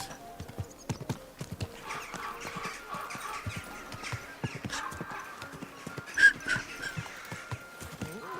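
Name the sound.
horse hooves clip-clopping, video game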